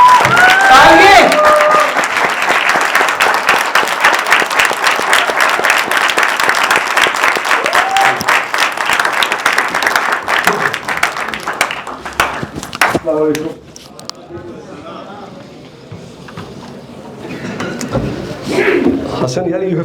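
Crowd applause at a book launch event, steady close clapping for about thirteen seconds that then thins out into scattered claps, room murmur and a few voices.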